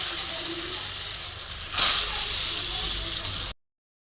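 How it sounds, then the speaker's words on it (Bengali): Eggplant frying in hot oil makes a continuous close sizzling hiss that swells briefly in a louder surge midway, then cuts off abruptly. "বেগুনটা ভালো করে ভেজে আমি তুলে নেব।"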